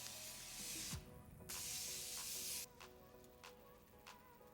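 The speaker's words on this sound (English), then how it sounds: "I'm gonna go ahead and set it. This is the Morphe Prep and Set." Morphe Prep and Set setting spray misted onto a face: two close, loud hissing spritzes, each about a second long, followed by quieter faint rustling, with no talk.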